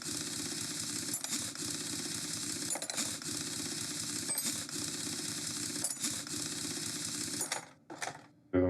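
A car wheel is taken off in the Car Mechanic Simulator 2021 video game, with rapid mechanical whirring and clicking bursts, like an impact wrench, over a steady game background that drops out near the end.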